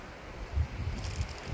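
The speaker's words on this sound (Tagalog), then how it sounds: "Ay, pakinggan nyo yung hangin." Strong wind on Mount Olis in Atok, Benguet, a cold mountain site, roaring in steady low gusts that surge and swell like ocean waves, close to the microphone with no talk over it.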